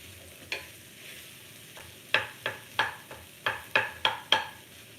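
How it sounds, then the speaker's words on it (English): Boiled potatoes roughly mashed with a wooden spoon in a pan of empanada guiso, giving a string of soft thuds and scrapes in a loose rhythm, several close together toward the end, with faint sizzling beneath. "I throw this in. And I give it a quick mash, just like this. A rough mash."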